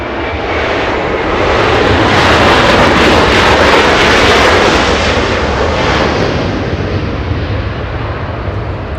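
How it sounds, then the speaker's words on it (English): A United Airlines jet on arrival at Los Angeles International Airport at night, in from Denver, passes as a loud, steady, broadband roar that swells over the middle seconds and then eases, with no talking. "United Airlines 795, flying in from Denver, Colorado, a 2-hour flight, the arrival that we just saw"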